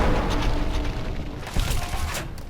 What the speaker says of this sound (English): You can't dodge an explosion.